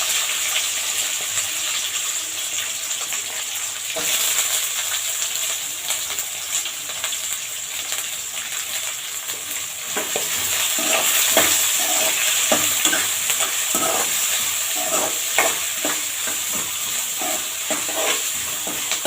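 Onions and green chillies sizzle steadily in a pan at close range, the frying hiss joined partway through by repeated scraping stir strokes that keep up to the end.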